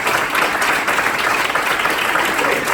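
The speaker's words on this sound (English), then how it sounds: "So if everyone could just please give a round of applause for Brian." Loud, continuous applause from an audience honoring a speaker at an outreach gathering against human trafficking, a dense, even wash of many hands clapping at once without a pause.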